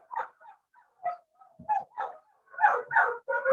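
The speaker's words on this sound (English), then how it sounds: "Can someone mute their dog?" A dog comes through a Zoom call, yipping and barking in short bursts that grow louder and more insistent, with a few whimpery notes, fairly close to the microphone.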